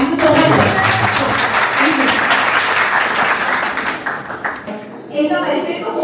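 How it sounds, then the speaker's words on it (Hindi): An audience claps warmly for a film actress at a talk event, a dense sustained round of applause that thins toward the end as voices come through. "इतने प्यार से ताली बजा रहे हैं, इतना स्वागत कर रहे हैं"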